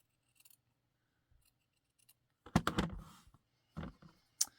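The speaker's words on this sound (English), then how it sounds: "we'll cut another circle here" Scissors snip through a felt circle, with a few faint early snips, then a louder burst of close, crisp cuts and a couple of final snips, alone and without talk.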